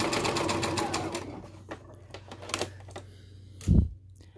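A sewing machine whirs steadily as its feed dogs pull fabric through, running loudly for just over a second before stopping, followed by a few faint clicks and a brief low thump.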